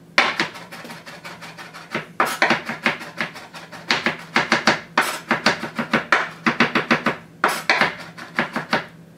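A sharp knife minces garlic on a cutting board with rapid, crisp taps. They come in quick bursts separated by brief pauses, close and clear, with no talking.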